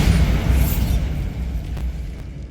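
A Bombarda spell blast in Hogwarts Legacy, heard as a loud, dense explosive rumble that booms up front and slowly thins out over a couple of seconds.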